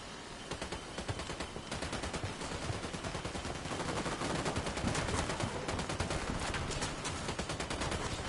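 Sustained automatic gunfire fills the scene in Ghost Recon Wildlands, a dense, steady barrage of rapid shots and overlapping bursts running without pause from start to finish at a loud, close level.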